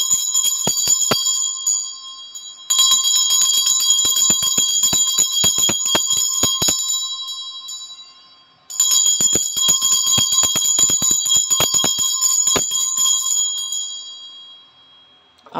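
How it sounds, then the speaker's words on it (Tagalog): A Tibetan bell rings clear and bright in three long sustained passes used for cleansing, each swelling quickly and then slowly fading, heard alone without speech. "mag-cleansing lang ako using this Tibetan bell"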